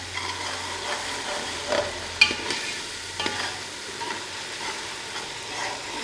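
A pan of onions with ginger, garlic and chili paste, cooking for aloo keema, sizzles continuously up close. Intermittent scrapes and a sharp clink come from stirring.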